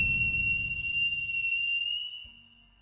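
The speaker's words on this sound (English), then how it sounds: "The howling stopped after a loud whistle sound." A loud, sustained high whistle in the fantasy visual novel game Celestia: Chain of Fate sounds over a low rumbling bed as wolves go quiet, then it fades and cuts off near the end.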